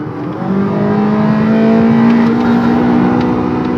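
A tuned Mazda CX-3 2.0 engine revs hard and holds a high, steady drone during a gear change, loud and close, rising briefly at the start with no one talking.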